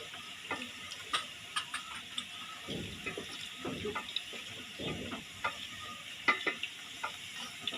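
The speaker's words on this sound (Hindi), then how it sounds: "आप देख सकते हैं प्याज हमारे फ्राई हो चुके हैं।" Onions fry in a pan with soft sizzling, broken by irregular clicks and scraping taps as they are stirred, moderately quiet with no talking.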